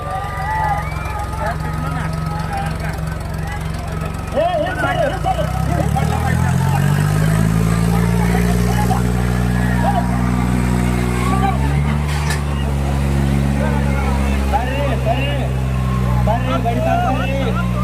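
Tractor engines at a village tractor pulling competition rev loudly, their deep drone rising and falling in pitch under a constant announcer's voice and crowd noise.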